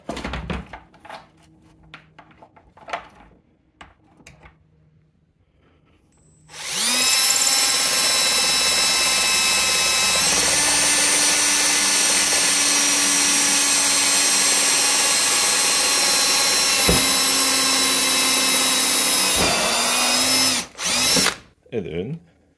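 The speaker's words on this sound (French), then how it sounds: "On s'assure de percer bord en bord les deux parois." Drill with a quarter-inch bit boring through both walls of a Polaris snowmobile ski during gripper reinforcement installation. After a few quiet handling clicks, a loud, close, steady whine runs about thirteen seconds, then stops, followed by brief bumps.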